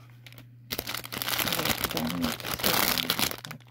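Plastic jewellery packets crinkle and rustle close by as a parcel of costume jewellery is unpacked, with someone talking over the near-continuous crackling.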